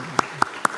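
A church congregation at a Korean Sunday morning service claps for children with three sharp, evenly spaced claps in unison, each a crisp burst over a quiet hall.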